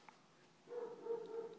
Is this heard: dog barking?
yes